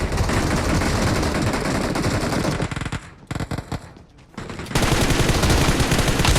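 An M4 rifle firing in a shooting video game: loud, rapid bursts of automatic fire, a short break with scattered quieter shots, then heavy sustained firing again to the end.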